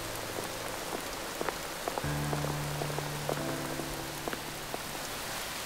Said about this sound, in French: Et sous la pluie en plus, ah, bravo la jeunesse.